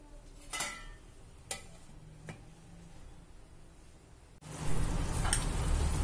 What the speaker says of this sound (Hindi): कम से कम 5 मिनट तक हम इसे पकाएंगे, जब तक इसका ग्रेवी ऑयल ना छोड़ने लग जाए।